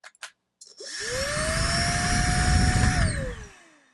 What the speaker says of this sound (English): So this is the vacuum that you hold. So you press a trigger to turn it on.